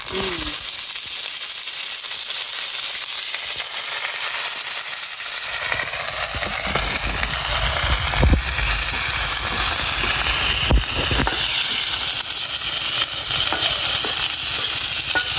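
Onion and garlic fry in a pan with a steady, close sizzling hiss throughout, broken by a few faint clinks and scrapes of stirring.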